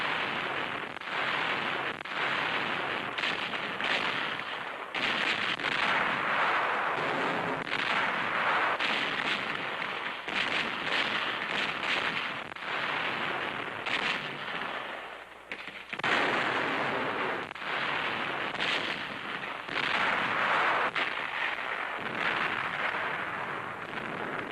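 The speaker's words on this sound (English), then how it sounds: "Guns, emplaced in the hills, open fire. And they have the range." Artillery fires from gun emplacements in the hills in a 1943 wartime newsreel. Booms and blasts roll in repeatedly over a dense, continuous wash of noise on an old recording.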